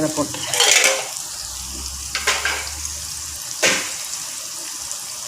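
Slit green chili fries in hot oil with crackling sizzle and stirring clatter, a brief word spoken midway.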